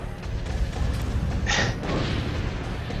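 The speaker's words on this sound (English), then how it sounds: "And it causes explosions." A grenade launcher explosion in The Crow: City of Angels video game is a loud, rumbling burst of noise that swells briefly midway and sits over continuous low, dense game rumble.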